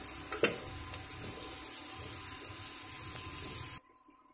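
Black peppercorns and raisins frying in a pan, a soft steady sizzle with a few light stirring scrapes, close and quiet, ending abruptly.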